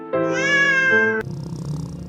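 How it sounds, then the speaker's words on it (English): A single drawn-out cat meow, loud and close, followed by a softer low murmur or short trailing sound. "They create their own set of meows to talk to their human"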